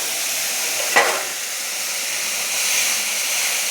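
A ground spice paste of tomato, cumin, ginger and chilli sautéing in a pan for dhokar dalna, giving a steady, even hiss of frying broken by one short stirring clatter near the start.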